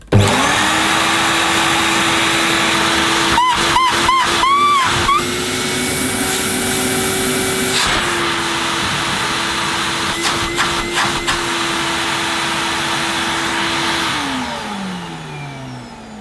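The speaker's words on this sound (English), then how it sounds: "Not the sweetest sounding vacuum cleaner, is it?" A Hoover SC086 Maestro bagged cylinder vacuum cleaner runs with a loud, steady whine and drone, a few clunks near the start, then winds down at the end.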